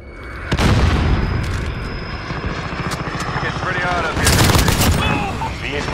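Gunfire in a Call of Duty-style shooter, rapid bursts and booms layered with a helicopter drone and radio-style voice chatter throughout.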